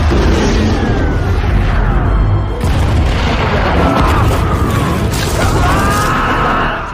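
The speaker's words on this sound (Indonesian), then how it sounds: "terjadilah ledakan yang sangat dahsyat" A massive, rumbling bomb explosion from the film Stalingrad (2013) roars loudly and continuously, with deep booming energy sustained throughout and debris-like crackling layered on top.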